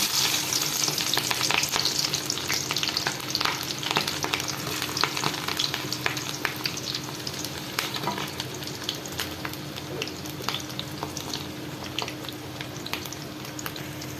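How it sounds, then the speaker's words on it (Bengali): Onion and green chilies frying in hot oil in a kadai over medium heat for fried rice; a steady, close crackling sizzle with scattered pops runs throughout, with no talking. "মিডিয়াম আছে কিছুক্ষণ ভেজে নেব পেঁয়াজটাকে।"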